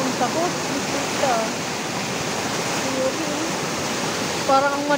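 Floodwater rushes through a canal during Typhoon Kristine, a loud continuous roar of churning water close by, with voices speaking over it.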